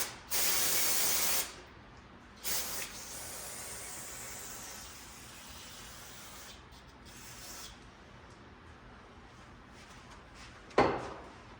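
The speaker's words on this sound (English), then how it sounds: "clean this up with some carbon choke cleaner." Carb choke cleaner sprays from an aerosol can onto a 2012 Honda TRX 450R carburetor: a loud hissing burst near the start, a shorter spurt, then quieter handling, faint hisses and a sharp clack near the end, no speech.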